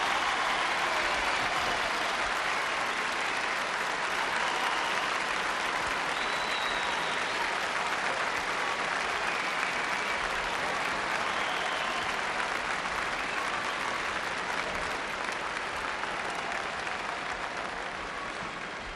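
A large audience at the 1970 Miss World pageant breaks into sustained, dense applause, an even wash of clapping from a big hall that holds steady throughout with little variation.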